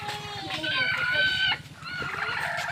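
A chicken calls up close, a drawn-out crowing, clucking cry in two bursts separated by a short pause, with other farmyard noise and faint low voices underneath.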